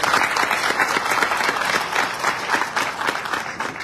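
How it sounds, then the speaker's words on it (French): Warm audience applause for a guest speaker at an event in Montreal, steady dense clapping from a crowd filling the whole stretch at an even level and fading slightly at the end. "je vous demande d'applaudir chaleureusement"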